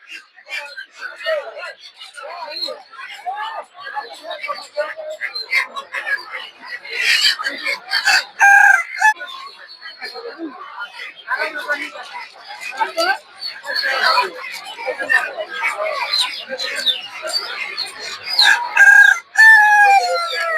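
Several roosters crow repeatedly over a busy chatter of clucking hens and people talking nearby at the Gausia Golakandail poultry market, a crowded, noisy poultry scene.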